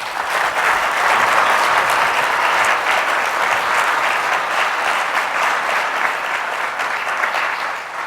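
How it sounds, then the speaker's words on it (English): A conference audience at a summit keynote panel applauds, dense sustained clapping from many hands that stays loud and even throughout, with no speech over it. "Big round of applause for them."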